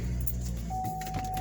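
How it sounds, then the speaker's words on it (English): Car being switched on to lower its convertible top, a steady low engine-bay hum with a thin electronic tone starting partway through as the gauges come alive, close and moderately loud with no talk. "So to lower the top, you just turn on the car."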